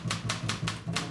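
A typewriter clacks in a steady rhythm of five evenly spaced keystrokes, close and moderately loud, over a low background hum.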